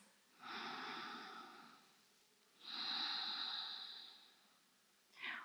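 Slow, audible breaths during a restorative yoga flow: two long airy exhales a couple of seconds apart, then the start of a third, close and soft in an otherwise quiet room.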